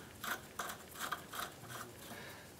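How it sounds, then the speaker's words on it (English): A ratchet with a 17 mm socket clicks in about five short bursts, tightening a tie rod nut on a 1994-2004 Chevrolet S10, close and fairly quiet. "Torque this down using our 17 millimeter socket"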